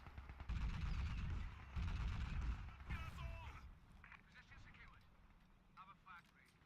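An MG42 machine gun fires loud rapid bursts in a WWII battle game set around Caen. The clatter dominates the first few seconds and then fades to distant scattered shots, with voices heard faintly.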